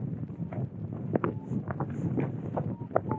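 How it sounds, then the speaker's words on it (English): Gusty wind buffets the microphone in a low, uneven rumble during paragliding, with a few sharper knocks and rustles breaking through. "Kind of windy, yeah?"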